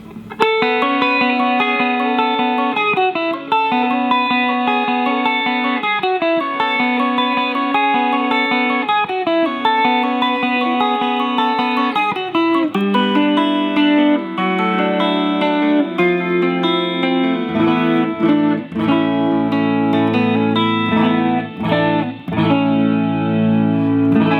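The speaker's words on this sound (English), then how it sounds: "We're gonna start up here on the 12-string neck. Let's start up on the neck pickup." A bright, shimmering twelve-string electric guitar, the 12-string neck of a late-1960s Mosrite Joe Maphis 6/12 double-neck on its neck pickup, plays sustained chords with a chorus-like doubled sound, ringing steadily and loudly throughout.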